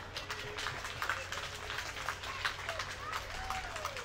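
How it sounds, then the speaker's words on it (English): Scattered clapping from a parade crowd outdoors, steady, moderately loud patter over a murmuring crowd with a voice rising through it. "please give a round of applause to our judges"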